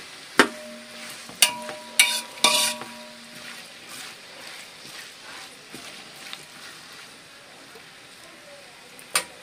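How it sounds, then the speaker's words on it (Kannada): Onions fry in a pot for chicken biryani while a spoon knocks and scrapes against the metal in several sharp clanks early on, over a soft continuous sizzle that carries on quietly afterward. "ಈರುಳ್ಳಿ ಚೆನ್ನಾಗಿ ಫ್ರೈ ಆಗಬೇಕು."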